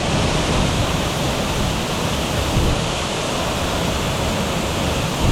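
A waterfall in Boquete, Panama roars as a steady, loud broadband rush of falling water that holds even and unbroken throughout, with no voices over it.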